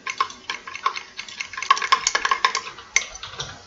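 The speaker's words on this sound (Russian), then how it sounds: "и добавляем отдушку. Все хорошенько перемешиваем" Melted soap base mixed with added fragrance, stirred in a container with a steady run of light clicking, scraping strokes close by, with no voices.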